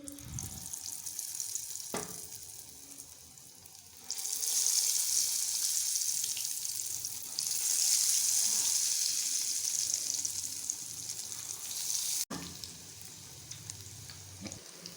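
Eggplant finger chips deep frying in hot oil, a steady bright sizzle that swells louder as more pieces go in, with brief clatter of handling between batches.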